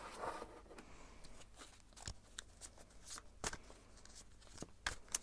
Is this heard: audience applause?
no